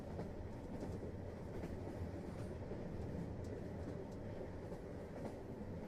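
A train ride with a continuous low rumble of carriage and rails, soft rhythmic clacks and faint rattles throughout, steady and fairly quiet.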